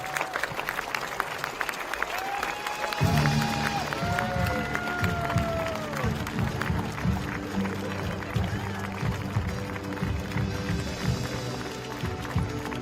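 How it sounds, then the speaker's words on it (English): Spectators at an archery world championship medal ceremony in Den Bosch applaud warmly, a sustained dense clatter of many hands under music and a speaking announcer. "Warm round of applause there from the crowd here in Den Bosch"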